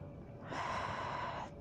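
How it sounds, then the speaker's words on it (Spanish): A single forceful exhale of about a second from a person in an exercise workout, a close breathy rush of air that starts abruptly and cuts off. "Llevo la respiración. Suelto el aire al subir."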